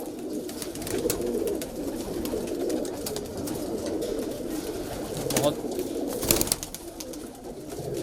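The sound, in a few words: kalpare high flyer pigeons in loft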